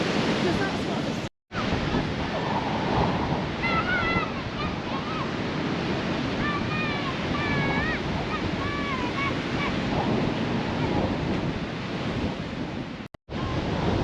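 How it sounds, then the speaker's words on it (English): Strong wind roars over rough sea waves breaking on a beach, a dense, continuous wash of noise close to the microphone, with faint voices partly buried beneath it. "You probably won't be able to hear me at all now with the wind."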